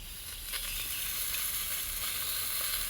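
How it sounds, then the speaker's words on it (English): Steady, close sizzling of meat frying in a hot pan at a campsite by a pond, a continuous crackling hiss with no talking. "Oh, that sizzle though."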